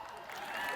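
Commencement audience applauding during a college graduation ceremony, a dense wash of clapping with some crowd voices mixed in, steady and building slightly across a brief moment.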